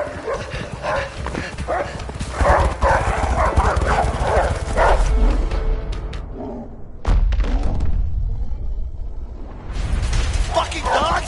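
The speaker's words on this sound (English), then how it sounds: "Fucking dogs!" Dogs bark and yip in a frantic chase in the video game A Way Out, busy and loud over running footsteps, thuds and a steady rumble, with brief gaps before the commotion surges again.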